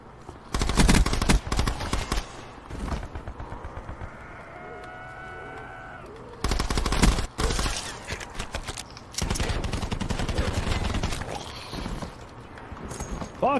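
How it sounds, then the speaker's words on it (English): Gunfire in the video game Call of Duty: Black Ops 4 Blackout, loud bursts of rapid shots in clusters with quieter gaps between, mixed with other game noise. "I hear shooting."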